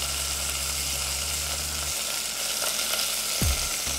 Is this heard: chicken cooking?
yes